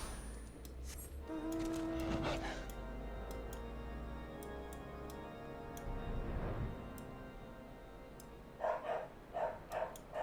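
A dog in Final Fantasy XIV Heavensward barks in a quick burst of several sharp barks near the end, after steady ticking and game music.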